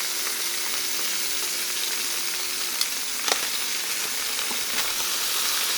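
A turkey neck browns in a hot pan, giving a steady, dense sizzle and frying hiss close by, with a few faint knocks from stirring and no talking.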